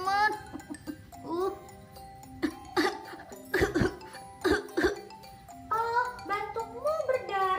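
Several harsh coughs and throat-clearing bursts from a person with a cough lasting nearly three weeks, spread across the clip over a faint chiming musical background.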